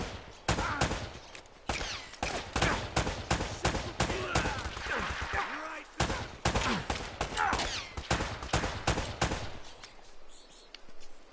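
Rapid gunfire bursts in the action video game Uncharted: Drake's Fortune, loud close volleys of repeated shots with brief gaps between, continuing for several seconds and tapering off at the end.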